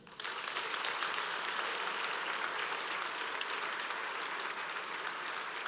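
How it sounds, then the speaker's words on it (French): A standing audience at an awards ceremony bursts into sustained applause on cue, a dense, even roar of many hands clapping that holds steady for several seconds without talk. "Quand je dis action, vous applaudissez."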